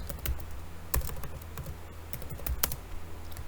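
Close-up typing on a computer keyboard to enter a chatbot query, with irregular clacking keystrokes and a few heavier key hits standing out at a steady pace.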